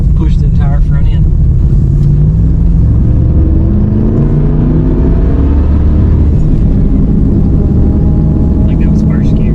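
A Jeep with a newly installed 4.7 H.O. high-output V8 engine roars loudly and steadily as it is driven hard in first gear in an attempt at a drift, the engine note rising and sustained close by, with brief voices at the start and end.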